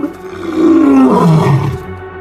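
A single loud, close lion roar, likely on the African savanna, swells from a low groan into a long, powerful bellow that rises, falls and fades, with no other sounds.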